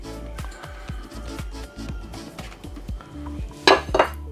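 A plate's edge is pressed through rolled dough to trim kutab pastries, giving a run of soft knocks and taps against the board, ending with a couple of sharper clinks.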